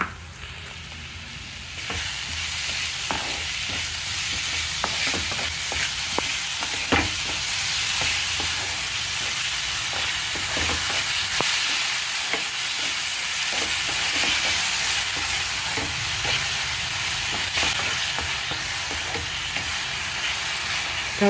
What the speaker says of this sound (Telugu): స్టవ్ సిమ్లోనే ఉంచి వేయించుకోవాలండి.